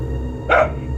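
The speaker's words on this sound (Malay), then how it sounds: "Lama juga anjing itu menyalak" One brief dog bark sounds just past the middle, loud and near against a constant low droning hum, alone without any speech.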